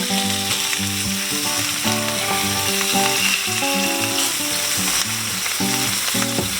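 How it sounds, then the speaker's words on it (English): A Reuben sandwich fries in butter in a pan with a steady, close crackling sizzle that runs throughout, partly under melodic background music. "But look at that buttery sizzleness."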